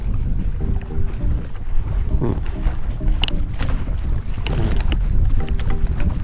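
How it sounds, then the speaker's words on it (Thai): Steady breeze buffets the microphone at a riverside campsite beside a reservoir, a continuous low rushing roar with gusts rising and falling throughout and no clear talk. "ลมโชยตลอดครับบรรยากาศดีครับ"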